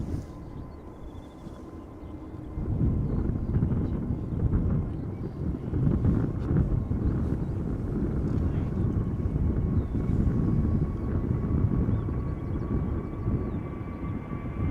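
A Transavia airliner departs Schiphol Airport. It begins as a distant murmur, then swells after a few seconds into a sustained, loud jet roar with wind buffeting the microphone.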